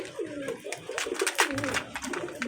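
Pigeons, including a red-marked breeding pair, coo in soft, repeated rolling calls close by, while someone talks over them.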